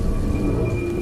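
Steady rain pours down outside an old abandoned mansion, a dense continuous wash with low rumbling beneath it that could be distant thunder, heard alone with no voices.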